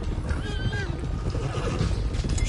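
Horse whinnying in the video game Red Dead Redemption 2, a loud wavering neigh near the start over a dense, busy background with hoofbeats.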